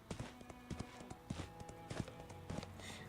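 Horse hooves clip-clopping in the video game Identity V, a quick, steady rhythm of light hoof taps at a trot, moderately close and faint.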